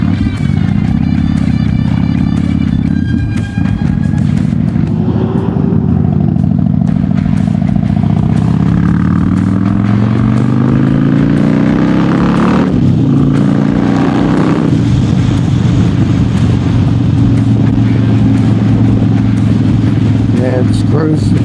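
A Harley-Davidson Dyna Street Bob motorcycle rumbles steadily while being ridden, its engine note rising through a couple of accelerations, with someone talking over the loud, continuous drone.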